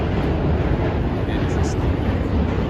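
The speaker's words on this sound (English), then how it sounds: "Look at that annoying loud train." A loud train rumbles past on a Brooklyn street, a broad, steady roar that fills the scene at close range.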